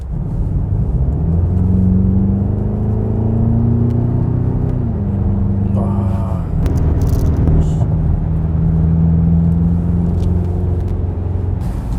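BMW X6M SUV accelerating onto the highway in Sport Plus mode, with a loud, continuous engine rumble rising in pitch through gear changes and a brief drop between shifts, steady road noise underneath.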